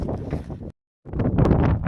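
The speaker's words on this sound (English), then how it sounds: "It's windy. That's what happens at tops of mountains." Strong gusty wind on a mountain top roars and buffets against the microphone, cutting out briefly before rushing back just as hard.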